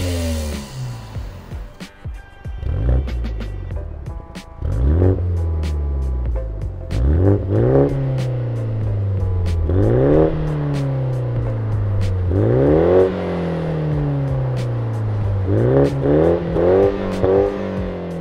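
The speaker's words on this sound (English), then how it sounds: "let's have a quick listen to what this M135i is sounding like with our system on" A BMW M135i fitted with an aftermarket exhaust system revs repeatedly, each blip rising sharply then falling away, with crackles and pops between pulls; loud and close, with no talking.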